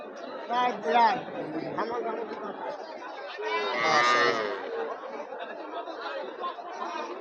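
Cattle at a crowded cattle market in Joypurhat, with moos and lowing rising over a constant chatter of many voices, plus close talk nearby.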